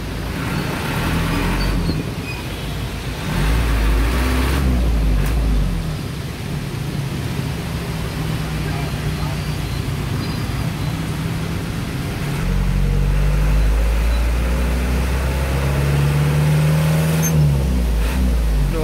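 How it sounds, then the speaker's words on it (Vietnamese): Steady road traffic in a jammed Buon Ma Thuot street during steady rain, with low engine rumble from nearby vehicles swelling and easing, including a couple of louder passing surges, all continuous with no talking. "Phố Buôn Ma Thuột đang kẹt xe rồi các bạn ơi"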